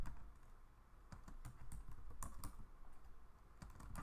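Continuous typing on a computer keyboard, steady rapid key clicks at close range with no one speaking.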